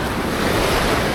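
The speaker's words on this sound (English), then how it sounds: "Some of the waves are over 10 feet tall." Big ocean waves over ten feet tall crash on a beach in El Salvador, a dense, continuous roar of surf with wind buffeting the microphone, loud and close.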